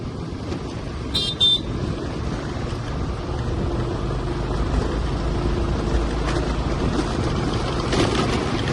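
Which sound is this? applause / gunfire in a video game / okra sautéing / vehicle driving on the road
vehicle driving on the road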